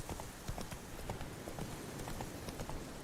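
Roach, Geralt's horse in The Witcher 3, trotting with quick, even clip-clop hoofbeats, soft and steady against a faint background.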